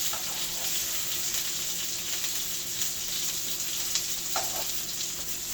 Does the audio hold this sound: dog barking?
no